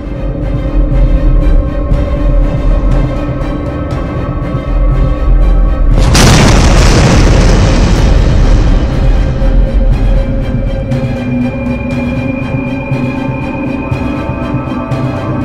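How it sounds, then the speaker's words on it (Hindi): A sudden loud explosion sound effect bursts out midway over a steady musical drone, depicting the Big Bang, its deep rumble slowly fading back into the background. "ये सिंगुलैरिटी अचानक से एक जोरदार धमाके से फट पड़ती है।"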